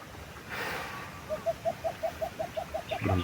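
A repeated bird call, about a dozen short even notes in a steady rhythm, fairly faint against outdoor background noise.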